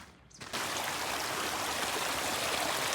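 River water rushes steadily at a trail river crossing on the Pacific Crest Trail, a loud, continuous broadband flow that swells in after a brief quieter moment and holds without pause.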